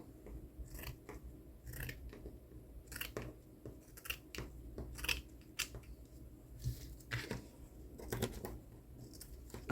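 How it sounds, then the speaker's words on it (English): Snipping with household scissors designated for fabric, cutting cloth at a craft table: a string of short, crisp cuts scattered across the stretch, close and moderately quiet, with no talking. "Oh, and then the fabric scissors."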